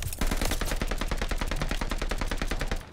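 Rapid automatic gunfire from the Call of Duty Vanguard video game, a loud, dense, continuous burst of evenly spaced shots that fills the clip.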